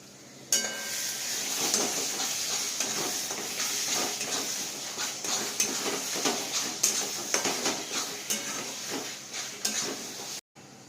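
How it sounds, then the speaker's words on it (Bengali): Garlic and ginger paste spices for mutton curry being stirred and fried in a pan, a steady sizzle with repeated scraping and clinking of a spatula against the pot, close and continuous, with no talking. "এইভাবে বেশ কিছুক্ষণ ধরে নেড়ে চেড়ে মশলা ভালো করে কষিয়ে নিতে হবে"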